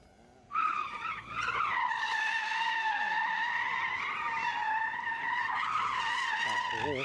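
A BYD car drifts on a simulated snow and ice track, its tires squealing in one long, loud, continuous screech that starts abruptly and holds steady to the end.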